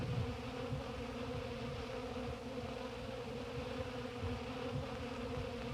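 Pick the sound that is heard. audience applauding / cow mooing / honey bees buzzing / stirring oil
honey bees buzzing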